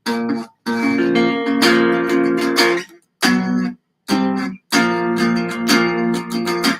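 Strummed guitar chords on the bottom four strings ring out in loud, clear bursts, three separate phrases broken by short silences, played alone with no voice.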